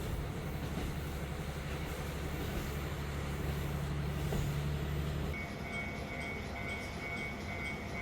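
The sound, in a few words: Kushiro Norokko sightseeing train running through Japan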